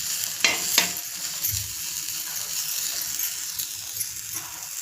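Finely chopped onion roasting in a pan for a peanut curry, a soft steady sizzle with a couple of scraping stirs and clinks early on, fairly quiet and close.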